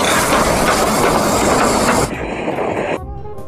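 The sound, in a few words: toy train sound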